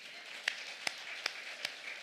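A church congregation at a Sunday worship service claps in response to the pastor, heard as a few sparse, distinct claps spaced evenly over a faint roomy background, quiet and distant.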